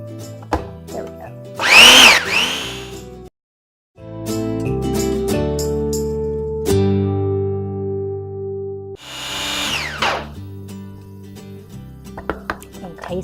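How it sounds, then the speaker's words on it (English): A blender purees salsa seasoned with cumin in loud whirring bursts, with pauses between them, a brief silent gap, and a steady motor tone that shifts in pitch as it runs. "So let's go ahead and blend this up."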